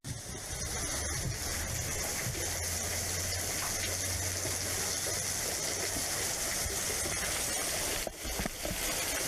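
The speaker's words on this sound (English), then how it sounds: "A little cave system, little tiny waterfalls." Small waterfalls trickle and gush inside a little cave system in Zaleski State Forest, giving a constant, close splashing roar with a low hum running underneath for most of the stretch.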